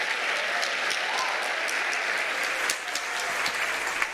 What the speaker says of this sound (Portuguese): Aplaude, vai.